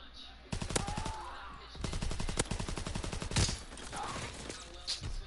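Gunfire in a multiplayer shooter match, bursts of rapid shots and scattered single cracks close up, with players talking over the firing.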